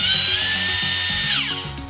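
A 4.5T brushless RC motor on a Maclan DRK 160 ESC whines loudly as it is throttled to full, its pitch rising in steps, then winding down at the end.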